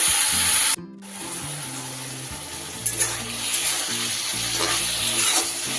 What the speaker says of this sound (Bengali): কড়াইটা একটু ভালো করে নাড়াচাড়া করে নেব